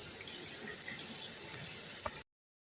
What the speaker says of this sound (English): going to quickly have a shower